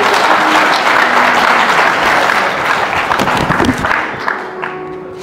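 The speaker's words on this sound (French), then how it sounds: "Applaudis couple à nouveau" Sustained applause from wedding guests for the couple, loud and dense, tapering slightly toward the end.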